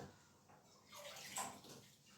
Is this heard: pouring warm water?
yes